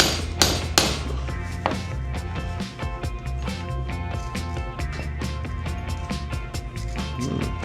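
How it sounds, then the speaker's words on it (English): A wood splitter is used as a hammer on a metal crimp for kayak bungee cord, giving a run of sharp ringing metallic strikes, a few heavy blows early and then rapid repeated hits close by. "I'm gonna take my wood splitter and I'm gonna hammer the crap out of it right in the middle here."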